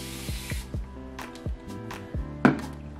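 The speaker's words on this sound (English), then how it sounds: "Oh, I do have my spray bottle." A handheld spray bottle spritzes water onto hair during a wash and go styling routine, with several short hissing bursts mixed with quick trigger clicks and handling noises, heard close up with no talking.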